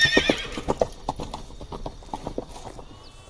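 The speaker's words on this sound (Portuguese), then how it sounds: "Horse or mare." Hooves clip-clop in a quick, steady rhythm close up, with a short horse whinny at the start.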